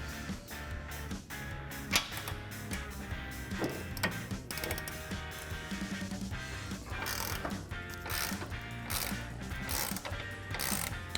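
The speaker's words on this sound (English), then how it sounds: "to get this out, we're gonna use a 21mm socket." A ratchet with a 21 mm socket works loose the axle-end track bar bolt on a Jeep Wrangler JL during a Teraflex lift install, giving a dense run of rapid metallic clicks and clatter throughout.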